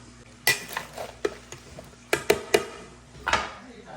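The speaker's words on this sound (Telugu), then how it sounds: "ఇప్పుడు ఇదంతా మిక్స్ చేద్దాం ఇట్లా" An arugula salad is tossed with roasted sesame dressing in a bowl, with a few sharp utensil clinks and scrapes landing irregularly, close and fairly loud, over a quiet background.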